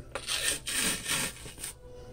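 Membrane being pulled off a rack of pork ribs by hand, giving a few close, rough rubbing and tearing scrapes in short bursts with a brief pause between them, no talking.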